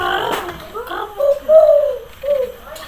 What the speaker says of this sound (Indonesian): nyari burung tekukur